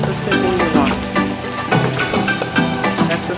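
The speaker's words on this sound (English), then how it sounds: "that's the sizzle you want" Chicken wing sizzling and crackling loudly in hot frying oil, a steady dense hiss with repeated bursts of popping, close up and alone.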